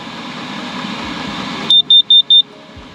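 A carbon monoxide detector inside a winter camping van gives four sharp, loud, evenly spaced high beeps after a quiet stretch of low cabin hum.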